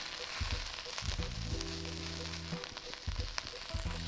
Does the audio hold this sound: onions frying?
yes